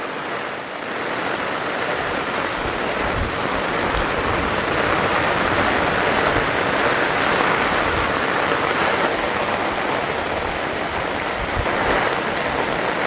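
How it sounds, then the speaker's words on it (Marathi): Heavy rain pours down steadily, a loud dense roar of water that holds without pause. "पाऊस चालूच आहे जोरात आला आहे आता"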